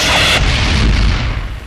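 A bomb goes off in a Telugu comedy film, one loud, close boom with a deep rumbling tail that fades out over under two seconds.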